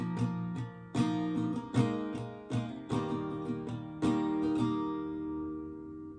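Acoustic guitar strumming the first chorus line of a song, live version: steady rhythmic chord strokes with ringing sustained notes, close and clear, fading as the last chord rings out.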